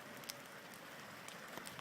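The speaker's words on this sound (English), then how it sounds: "A little bit of small hail still coming down." Small hail still falling outdoors after a storm, a faint steady patter with a few sharper ticks of stones striking surfaces nearby, no voices.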